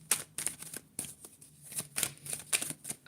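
Tarot cards being shuffled close by, quick papery riffles and snaps in irregular bursts with short pauses between them.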